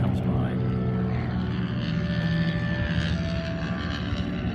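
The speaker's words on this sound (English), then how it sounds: "the SNJ lifting off. Watch you hear the engine here as it comes by." North American SNJ propeller warbird with a 600 horsepower Pratt & Whitney radial engine passing at Miramar Airshow, a loud steady rumbling drone with propeller rasp, heard under a commentator's voice.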